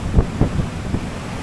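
Strong wind gusts buffet the microphone on a mountain top, low rumbling thumps in uneven bursts, close and rough, with no voices.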